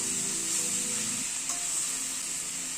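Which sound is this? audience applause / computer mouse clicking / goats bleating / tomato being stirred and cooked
tomato being stirred and cooked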